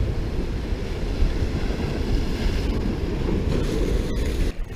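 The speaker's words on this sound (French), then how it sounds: "la mer est déchaînée. Beaucoup de vent, comme vous pouvez l'entendre." A rough sea and strong wind at the seashore by the reefs, a loud, continuous roar of surf with wind buffeting the microphone, and no voices.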